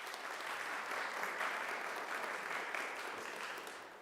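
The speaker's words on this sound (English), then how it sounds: "we do want to give her a round of applause" An audience at a city council meeting applauds steadily for about four seconds. The dense, even clapping fades slightly at the end.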